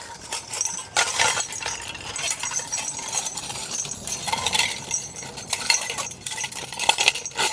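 Light metal peanut butter lids strung on a garland clink and rattle against each other in irregular bursts, close by, with small jingling taps scattered throughout.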